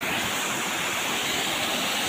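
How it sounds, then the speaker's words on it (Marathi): A steady, loud rush of falling water from the Mukundraj waterfall at Ambajogai roars continuously, a dense broadband wash with no pauses or other sounds. "आता आलेलो आहेत आम्ही धबधब्याजवळ आणि हा बघा धबधबा"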